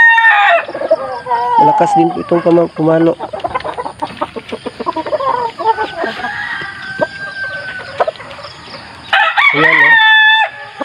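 A fighting rooster, a large, bulky mestizo gamecock, crows loudly up close and clucks in between, while someone talks over and around the calls.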